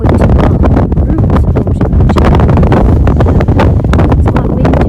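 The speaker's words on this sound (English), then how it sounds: "It's quite windy up here, so hopefully you can hear me." Strong gusting wind buffets the microphone on an exposed hilltop peak in the Yorkshire Dales, a loud continuous roar and rumble with surging gusts throughout, no voice.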